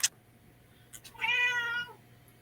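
A cat gives one clear, drawn-out meow close by, preceded by a brief click and a couple of small sounds in an otherwise quiet room.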